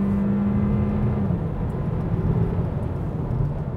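2023 Kia Seltos accelerating from 80 to 120 km/h, heard from inside the cabin as a steady engine drone and road rumble that shifts tone partway through, with no talk.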